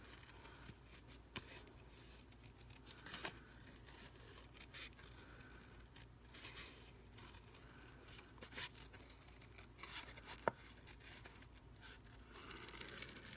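Paper is cut for a handmade card, with quiet scissor snips and soft paper scraping and rustling that come in irregular bursts, close by and faint.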